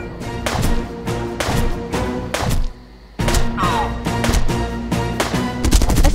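Sharp, loud gunshots ring out in quick repeated bursts during a firefight in Jagged Alliance: Back in Action, with one short pause partway through before the shooting starts again, steady and close.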